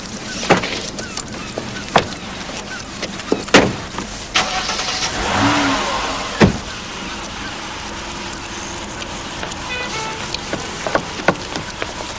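A car driving, with a steady engine and road rumble, scattered sharp clicks and knocks, and a brief swelling whoosh partway through, heard close and without voices.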